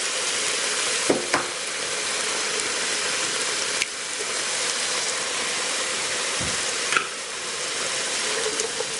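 Eggs and mixed vegetables sizzling steadily in a hot pan for Chinese fried rice, with occasional scrapes and clinks of stirring, constant loud frying hiss throughout.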